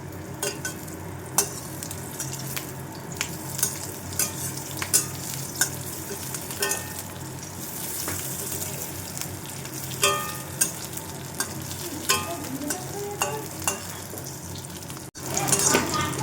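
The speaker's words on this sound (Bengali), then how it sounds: "লঙ্কাটা একটু লাল লাল করে নেব আর ওর সঙ্গে একটু কারি পাতাও দিয়ে নেবো" Red chillies and curry leaves frying in a pan, with steady close sizzling and sharp spitting pops, a few clinks of a spoon against the pan, and a louder burst near the end.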